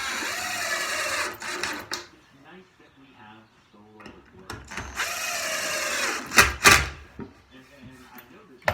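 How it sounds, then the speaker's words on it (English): Screws are driven into wood to fix tenons, with two whirring bursts from a driver separated by quieter handling noises and a voice talking in between. "Now I'll screw them in."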